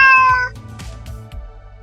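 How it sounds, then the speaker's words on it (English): A cat meows twice in quick succession, close and fairly loud at the start, followed by softer rumbling and faint low murmurs. "just coming up and laying on your lap and meowing and purring."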